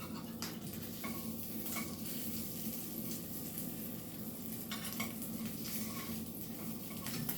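A quesadilla sizzles in a frying pan after being flipped, a soft continuous crackle with a few light clinks and scrapes of a utensil against the pan, fairly quiet and without talk.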